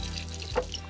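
Water is poured over sprouting seeds to soak them, a short, close trickle and splash that swells briefly and then fades, with no talking.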